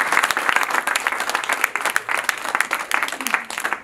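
A crowd in a hall at the inauguration of a family centre in Strasbourg claps steadily, a dense, close burst of applause with sharp individual claps standing out throughout.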